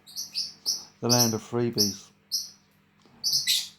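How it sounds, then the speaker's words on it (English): Birds chirp and tweet outdoors in short, bright, repeated bursts, fairly close, with someone speaking briefly in the middle of the calls. "By the way, sorry about the birds."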